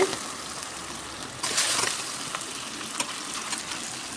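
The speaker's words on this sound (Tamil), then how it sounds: "நல்லா வதக்கி விட்டுக்கணும் பச்சை வாசம் போக வரையில் வதக்கி விட்டுக்கணும்" Ginger and garlic sautéing in a pan, a steady soft sizzle with a brief louder flare of frying partway through and a few sharp utensil taps.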